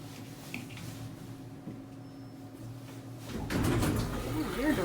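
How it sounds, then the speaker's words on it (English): The rear door of an old Dover elevator slides open partway through, a rising mechanical rumble and rattle that follows a steady low hum of the car, close and moderately loud. "Oh, rear door opened up now."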